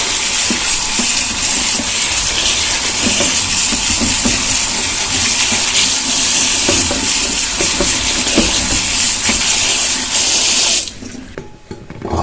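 Running tap water gushes steadily into a sink while grapes are rinsed, a loud continuous splash that cuts off near the end, leaving faint clatter.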